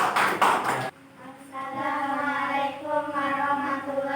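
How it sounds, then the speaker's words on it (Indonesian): Classroom applause for a student group makes a short burst of clapping at the start that stops after about a second, followed by voices talking. "Tepuk tangan dulu buat kelompok 1"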